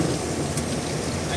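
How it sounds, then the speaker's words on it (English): Heavy rain from a hurricane near Jamaica, a dense continuous patter and hiss pouring steadily throughout, close and fairly loud, with no talk over it. "So we're getting Jamaica rain."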